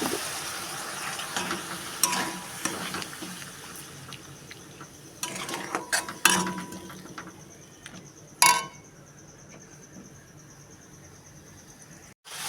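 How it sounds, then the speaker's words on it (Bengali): Onion and spice masala with turmeric and chilli is fried in a pan with a little water. A steady soft sizzle runs underneath, broken by several scraping spatula strokes and clanks, with no voices. "এবার একটু অল্প পানি দিয়ে পেঁয়াজটা ভালো করে মশলাটা কষিয়ে নেব।"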